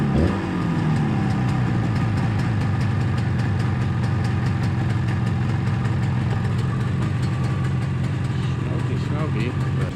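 Yamaha YDS7 250 two-stroke twin motorcycle running smoky on a first start, with a steady, close, buzzing idle that holds even throughout.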